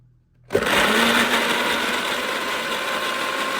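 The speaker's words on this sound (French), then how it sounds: "je prends un mixeur et je vais tout mixer" A kitchen blender starts abruptly and runs at a steady, loud whir, mixing homemade vitamin C serum ingredients, with no talking over it.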